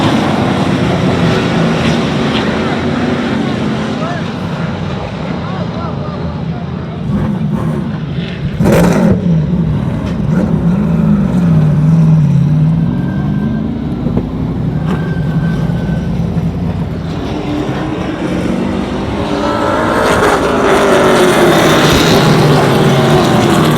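Pro Stock race cars from the Maritime Pro Stock Tour sweep through a turn at Oyster Bed Speedway, a continuous, loud engine roar that holds steady and swells toward the end.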